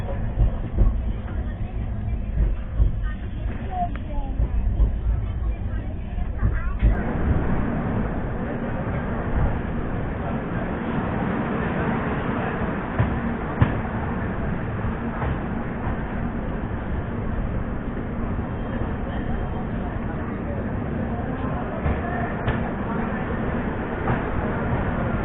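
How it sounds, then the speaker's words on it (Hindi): The Hemkund Express, a passenger train running between Howrah and New Delhi, rushes past with a sudden swell into loud, sustained rumbling and rattling wheel noise that continues steadily to the end. "ये रही हेमकुंड एक्सप्रेस जो हावड़ा से न्यू दिल्ली के बीच चलती है।"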